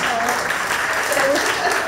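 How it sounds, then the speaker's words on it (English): A brief burst of audience applause for a couple married 30 years, steady clapping with voices talking over it. "That deserves a round of applause."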